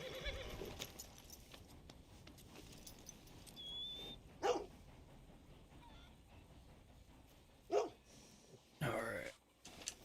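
A dog barks a few times in the Red Dead Redemption 2 video game, with short, sharp barks spread across the clip over a busy ambient background that includes horse sounds.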